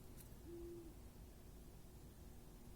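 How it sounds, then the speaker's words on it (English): A single low, steady owl hoot sounds faintly through quiet night air, likely from a horned owl, with a soft background hiss around it. "It's one or two, maybe even three horned owls. And then there's, I think it might be a saw-whet owl, maybe."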